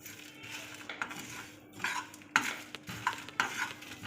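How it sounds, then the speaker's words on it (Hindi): Dahi bara masala spices being dry-roasted in a pan, with intermittent metallic scrapes and clinks of a spoon stirring against the pan over a soft background hiss, no talk. "ये है दही बड़ा मसाला जिसे मैंने हल्का सा रोस्ट करना है"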